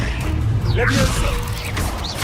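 A spell cast in the video game Hogwarts Legacy produces a swooshing magical whoosh with a rising shimmer and low rumble, heard over a shouted voice and game ambience.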